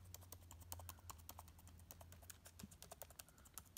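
Keys tapped on a flood-damaged MacBook Pro keyboard after hurricane water exposure, a quick run of crisp clicks at close range over a faint low hum, with no talk.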